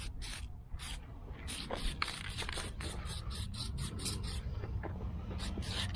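Aerosol spray can, roughly 10-20 years old, hissing a coating onto a seam of a 1976 El Camino, in repeated short bursts over a steady low background rumble.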